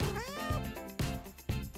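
A kitten meows several times in quick succession, close and fairly loud, with rising and falling tonal cries over a light bed of background sound.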